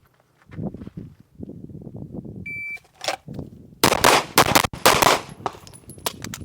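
A SIG P320 pistol fires a rapid string of loud, sharp shots close by during a timed shooting run, following a short electronic timer beep.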